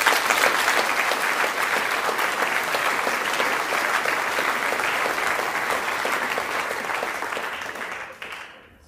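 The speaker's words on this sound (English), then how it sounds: "please take a moment to applaud Stephanie and Gracie" A steady crowd at a senior awards ceremony for Beckman Catholic students claps warmly for about eight seconds before the clapping fades and stops.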